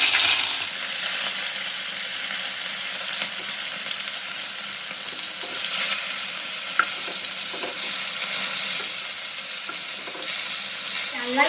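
Pieces of kalbaush fish fry in hot oil in a pan, a steady close sizzle running throughout with light crackles and occasional pops as they cook.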